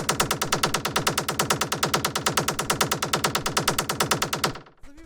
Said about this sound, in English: And then we have this click loop